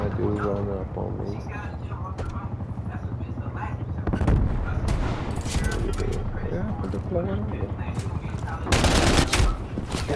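Gunfire in the Call of Duty: Black Ops Cold War video game, with sharp shots and bursts scattered through the clip, a loud cluster near the end, mixed under ongoing player chatter and game sounds.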